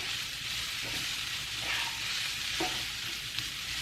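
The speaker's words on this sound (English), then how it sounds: "We'll let the garlic cook for about 30 seconds or so. Quick stir here." Garlic sizzles in a hot pan for picadillo with a steady, close hiss, broken by a couple of quick stirring scrapes.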